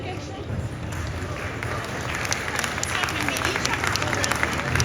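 A convention panel audience in Colmar, France applauds two translators, broad clapping building over a low rumble of crowd noise and murmuring, growing slightly denser toward the end.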